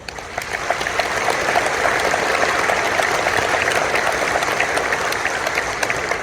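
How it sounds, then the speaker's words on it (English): Banquet audience at a boxing hall of fame event applauds the boxers, a dense steady wash of clapping that swells in the first second and holds loud and sustained throughout. "they deserve a round of applause"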